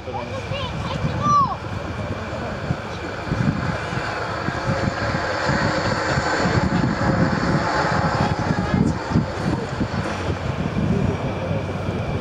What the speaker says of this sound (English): taking the A400M into the air to go out to the hold